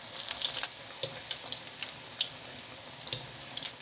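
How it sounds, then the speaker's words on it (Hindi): Pakoras frying in a pan over low to medium heat, a soft continuous crackle with scattered light pops and spits, moderately close and steady, no voices. "लो टू मीडियम हीट पे पकौड़ों को फ्राई करना शुरू कर देना है"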